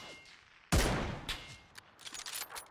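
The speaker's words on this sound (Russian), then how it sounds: "Откуда он стреляет?" A sudden loud burst of gunfire from the video game PUBG on the Erangel map, a sharp shot followed by a decaying echo and several fainter distant shots scattered afterward.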